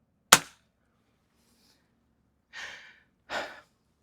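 An air rifle fires a 7.9 grain pellet with a single sharp, close crack, followed after a quiet pause by two soft breathy exhalations.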